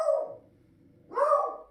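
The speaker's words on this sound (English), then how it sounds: "if my dogs will shut up for a minute" Dogs bark twice, close by: a sharp yap, a brief pause, then a second bark, with no talking around them.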